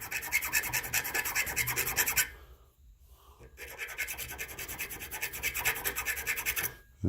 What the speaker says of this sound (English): Let me take those burrs off there.